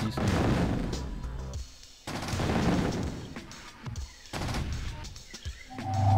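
Gunfire and explosions in the Command & Conquer Firestorm strategy game: dense, crackling volleys in several bursts separated by short pauses, with sharp impacts, heard alone without talk.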